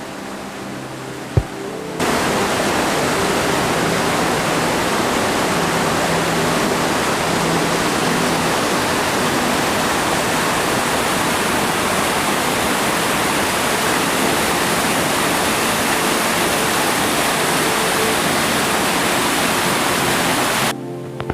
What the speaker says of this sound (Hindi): कलकल करती हुई नदी की सुमधुर ध्वनि और उसके किनारे स्थित यह खूबसूरत झरना